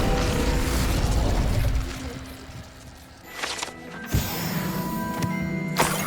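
Spell effects from the Hogwarts Legacy video game: a fire spell sounds in a burst of crackling, mechanical noise, then thins out before sharper pops and a bright whoosh flare up near the end.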